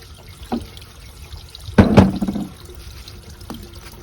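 Water gushes briefly out of a pool heater manifold once its drain plug is unscrewed during winterizing of pool equipment: a short splashing burst midway, with faint drips before and after, and no talk.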